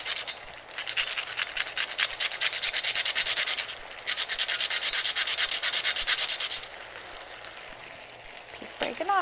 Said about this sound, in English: I think it's worth it to take the time to go ahead and grate the cinnamon fresh.